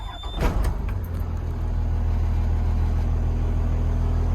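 A 2003 Blue Bird TC2000 FE school bus diesel engine cranks with a few sharp bursts, then catches and settles into a loud, steady, deep rumbling idle.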